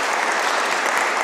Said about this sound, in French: peut-être en applaudissant le conseil presbytéral